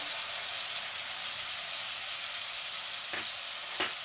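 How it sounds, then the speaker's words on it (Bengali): Spice masala of cumin powder, turmeric, chilli powder, salt and chopped tomato sautés in oil over a medium flame, a soft steady sizzle with a couple of brief stirring clinks near the end. "এটা আমি একটু কষতে থাকি যতক্ষণ না মশলা থেকে তেল রিলিজ হয়"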